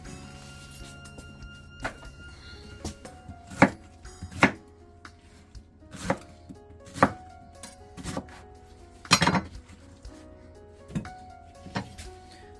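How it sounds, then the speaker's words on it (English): A knife chops through pineapple on a cutting board in a series of sharp, irregular thunks, some close together and some spaced apart, with no talking. "we're gonna peel the rest of pineapple and we're gonna cut it up just the same"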